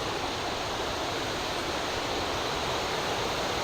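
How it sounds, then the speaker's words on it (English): Little Niagara waterfall in Wells Gray, British Columbia, roaring as a dense, steady rush of falling water, loud and unbroken throughout. "we hear water, so we've got to be close"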